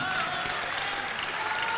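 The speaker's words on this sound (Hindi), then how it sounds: "जोरदार ताली बजाकर आज के उत्साह के लिए साधुवाद करो।" A crowd at a religious gathering in Korba, Chhattisgarh breaks into loud, sustained applause, a dense wash of clapping that fills the short moment with murmurs beneath.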